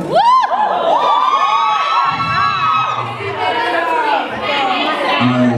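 A studio audience of teen moms screams and cheers in a loud, sustained wall of high shrieks and whoops, close and continuous, with some talking mixed into the crowd noise.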